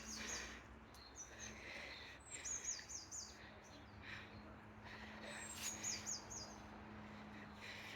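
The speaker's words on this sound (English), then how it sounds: "I can hear birdsong." Small birds chirp and trill in short bursts at mid-distance over a steady low rumble of road traffic on the B2131, heard from a steep country walk near Lynchmere, West Sussex.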